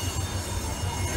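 The small Alishan railway train at a station gives off a close, heavy rumble with rhythmic low thumps and thin metallic wheel squeals riding on top.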